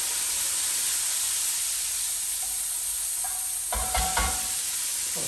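Beef steak sizzling in a hot pan while making beef satay with fried noodles, a steady frying hiss throughout with a sharper burst of crackle and stirring near the end.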